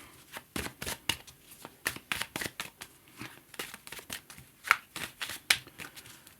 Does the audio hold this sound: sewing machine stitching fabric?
no